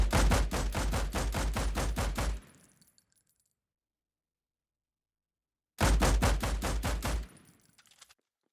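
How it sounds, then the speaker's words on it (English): Rapid automatic gunfire in the Lyra Starter Game built in Unreal Engine 5 with Wwise: a loud, close burst of about a dozen evenly spaced shots, a silent gap, then a second shorter burst, each trailing off with ringing tail. "each gunshot also triggers a shell casing sound, which falls to the player's right in random patterns to match the visuals"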